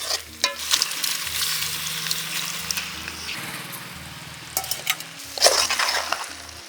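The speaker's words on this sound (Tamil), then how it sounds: "குடலை எடுத்து கொட்டி வறுத்துக்கலாம்" Goat intestines fry and get stirred in a pan for a village-style gravy, the hiss of oil rising and falling under clanks and scrapes of a ladle against the metal, close and lively.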